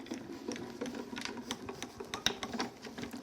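A die cutting machine rolls a pansy die through with a soft, steady mechanical rattle and whir, dotted with small clicks and one sharper tick, fairly quiet and with no talking.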